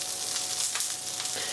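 Purple sprouting broccoli sears in a hot pan, a steady close sizzle and crackle of frying holding at an even level for the whole stretch, with soft pops rising now and then and no voices.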